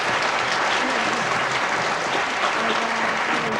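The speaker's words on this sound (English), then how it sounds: "I think they deserve a well-earned round of applause" Steady, dense applause from a school audience for grade 4 spelling bee alternates, continuous clapping at an even level throughout.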